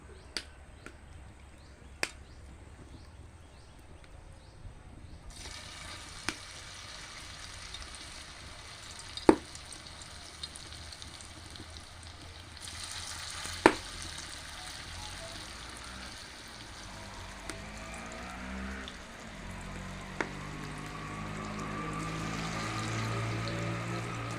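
Shiuli (night jasmine) leaf fritters frying in hot oil give a soft, steady sizzle that swells after a few seconds, dotted with occasional sharp pops and clicks.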